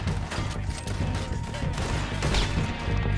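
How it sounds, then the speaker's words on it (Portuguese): Dense, continuous gunfire from the Red Dead Redemption 2 video game, a loud rolling clatter of overlapping shots and impacts with no clear gaps. "Nossa, que tiro"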